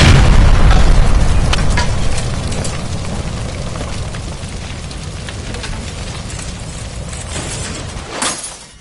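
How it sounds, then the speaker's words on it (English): A gas line by a stove blows up in L.A. Noire: a loud blast opens the clip, then a long roaring, crackling rumble slowly fades, with a brief burst near the end. "Look, by the stove! Shoot the gas line, Cole"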